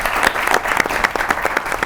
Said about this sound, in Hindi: चलो जी, बहुत सी ताली होनी चाहिए इनके लिए भी